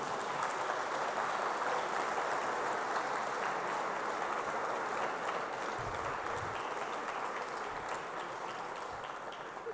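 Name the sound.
applause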